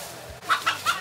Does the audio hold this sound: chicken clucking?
yes